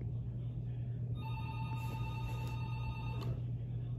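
Telephone ringing unanswered in a home, a faint electronic ring heard once or twice in the distance over a low steady hum.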